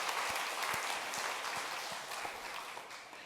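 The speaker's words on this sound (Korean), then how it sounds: "주님의 우리 하나님께 영광의 박수 올리겠습니다" Church congregation clapping at a Sunday worship service, a dense, steady wash of many hands from a sizable crowd, fairly loud and fading slightly toward the end.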